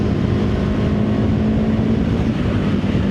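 Triumph Scram 350 single-cylinder motorcycle engine pulling after an upshift at higher revs, a loud continuous close rumble with a steady low hum and no pauses, no talking.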